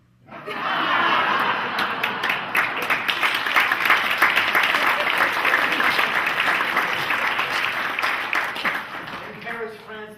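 A live audience at a comedy magic act bursts into sustained applause with scattered laughter. The dense clapping swells quickly and holds steady before tapering off.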